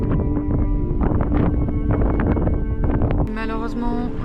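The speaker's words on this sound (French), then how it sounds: "le vent n'a toujours pas baissé" Strong, steady wind buffets a camper van, roaring and rumbling against the microphone and body without letup. A faint voice is heard briefly toward the end.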